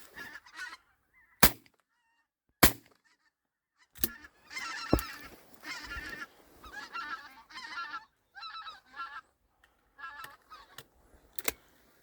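Geese honk repeatedly in loose, overlapping calls, fairly close, with a few sharp loud clicks or bangs scattered between the honks.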